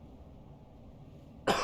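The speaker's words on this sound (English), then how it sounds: "God, I'm coughing so much." A single abrupt cough bursts out near the end after a stretch of quiet room hum, close and loud against the calm before it.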